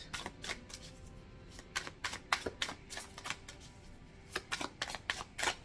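Tarot cards being shuffled in repeated bursts of crisp riffling snaps, close and clear, with short pauses between rounds.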